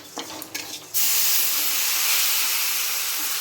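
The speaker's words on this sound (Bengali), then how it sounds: "এবার আমি এর মধ্যে দিয়ে দেবো জল।" Water poured into a pan of fried mung dal sets off a sudden loud, continuous steam hiss and sizzle right after a brief clatter, holding strong to the end.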